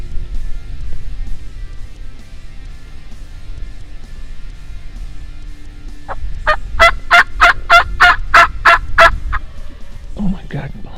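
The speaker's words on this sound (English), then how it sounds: "We had a gobble to the north," Wild turkey toms gobbling in a Michigan spring woods, a loud rapid burst of about nine pulsed gobble notes after a quiet stretch, then a softer call near the end.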